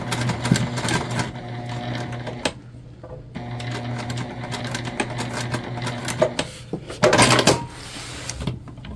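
Hand-cranked sewing machine stitching a bucket bag, giving rhythmic mechanical clattering runs with a low hum, broken by short pauses and a louder burst of rattling near the end; no talking.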